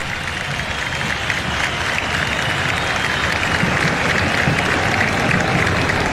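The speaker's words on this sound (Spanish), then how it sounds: "Aplauso del público para Ale Silva." A football stadium crowd in Paraguay applauds a player being substituted off, a steady, loud wash of clapping and crowd noise that holds evenly throughout with no speech over it.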